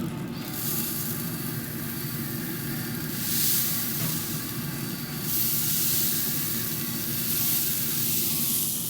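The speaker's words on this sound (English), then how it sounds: "so I am gonna hit it with this spritz." A spray bottle spritzes honey garlic ribs on a pellet grill in several sharp hissing bursts, close and loud, over a low steady background hum.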